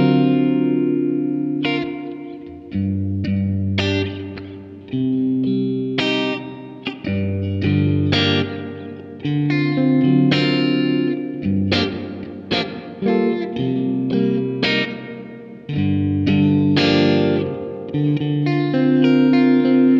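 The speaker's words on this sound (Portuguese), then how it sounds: "Aí tem um reverb." An electric guitar played through a Vox Amplug AC30 headphone amp with its reverb effect on. Loud chords and single notes ring out in a spacious wash, each phrase trailing into a lingering tail.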